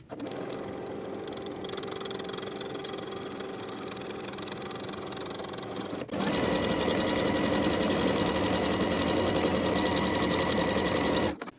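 A sewing machine sews the side seams of a top in a steady, continuous hum, running at one speed for six seconds, then more loudly and faster until it stops at the end.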